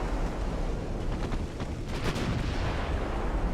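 Naval 5-inch and 3-inch guns fire in the Ultimate Admiral: Dreadnoughts game, a dense, continuous rumble of overlapping booms, loud and sustained throughout with no talking.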